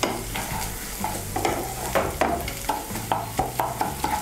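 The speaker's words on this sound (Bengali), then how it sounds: "আদা, রসুন আর কাঁচা লঙ্কাটাকেও একটু ভেজে নেব।" Chopped garlic, grated ginger and green chilli fry with onion in a pan, a close sizzle punctuated by a brisk, regular rhythm of spatula strokes scraping the metal.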